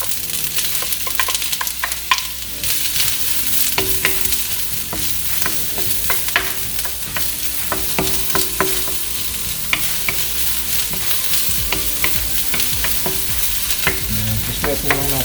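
Onion sautés in a hot pan for pork hamonado, with a steady loud sizzle and frequent scraping stirs of a utensil throughout, and no talking.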